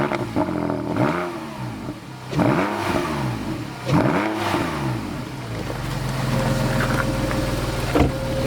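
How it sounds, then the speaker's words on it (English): A Porsche 911 997.2 Carrera engine started from cold, with three sharp revs rising and falling in succession, then settling into a loud, steady high idle with a faint clunk near the end. "So from cold, it sounds great, and you know it takes a little while for the revs to drop."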